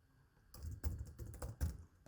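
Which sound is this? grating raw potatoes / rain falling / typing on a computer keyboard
typing on a computer keyboard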